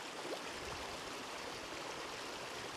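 Water rushes steadily down a mountain stream in the Lake District, a faint, even wash of flowing water with no distinct splashes and no voices.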